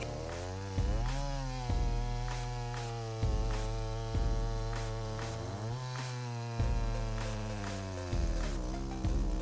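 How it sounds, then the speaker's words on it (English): A chainsaw cuts through dense wood with a steady buzzing drone, punctuated by several loud, regular revving surges every second or so, as the engine note drops and climbs while the chain bites. "The efficiency of chainsaw machines in cutting through dense wood has seen a significant boost"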